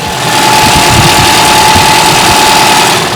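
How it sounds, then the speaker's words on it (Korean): A Lexus ES 300h hybrid car engine idles steadily and loudly, a smooth continuous hum with a faint whine and no voices. "엔진 소리 들려드리도록 하겠습니다"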